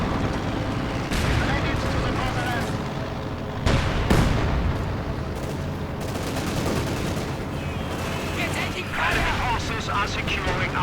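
Mortar rounds fire and burst amid sustained battlefield gunfire in the Company of Heroes 2 strategy game, a dense continuous din with sharper impacts near four and nine seconds, while a commentator's voice runs underneath.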